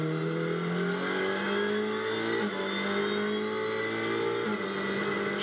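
Race car engine held at full throttle through a fast corner at the FIA Motorsport Games, a loud, steady high-pitched roar with harmonics shifting slightly as it passes, continuous for several seconds with no talk.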